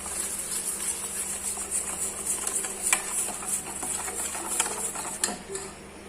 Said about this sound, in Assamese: চেনিখিনি আৰু কণীটো মিক্স কৰিবৰ কাৰণে মই চামুচ লৈছোঁ